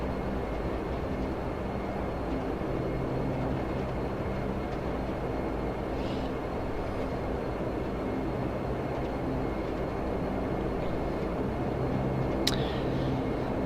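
In a flight simulator game, a Dash 8 airliner taxis at London City with a steady, dense, low engine drone that stays even throughout, with a brief click near the end.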